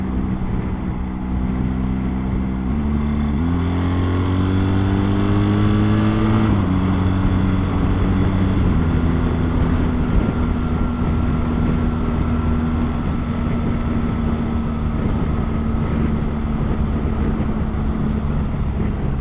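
A BMW R 1300 GS motorcycle's boxer twin engine drones steadily while riding on the road, its pitch rising then settling lower as revs drop, with constant wind rush over the microphone and no talk.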